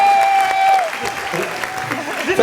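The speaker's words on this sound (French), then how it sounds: "Merci, applaudissez." Audience applause at a live show swells briefly and loudly, with clapping close and full, while a host's amplified voice and some music carry over it.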